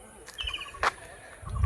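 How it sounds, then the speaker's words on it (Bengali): Birds call near a village on the bank of the Ajay River, with a short repeated chirping phrase and a few brief tweets over a quiet rural backdrop, faint and somewhat distant. "চারিদিকে পাখির ডাক"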